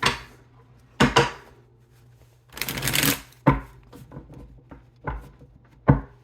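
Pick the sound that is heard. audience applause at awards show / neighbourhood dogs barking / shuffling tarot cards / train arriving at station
shuffling tarot cards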